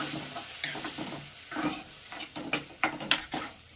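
Onion and tomato fry in a pan, a soft steady sizzle broken by a series of close scrapes and clinks from a stirring spoon that grow sharper toward the end, with no voices.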